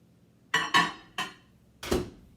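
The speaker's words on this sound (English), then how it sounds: "So I have pepperonis on my pizza now, and I'm going to just stick it in the microwave" A pepperoni pizza goes into a home microwave during a kids' cooking session, marked by four distinct hard clunks and clatters of plate and door, each sharp and close, spaced unevenly with quiet gaps.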